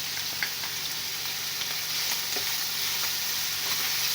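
Chicken frying in a pan with tikka masala, ginger powder and garlic powder, a steady, close, even sizzle with faint stirring ticks, no voices.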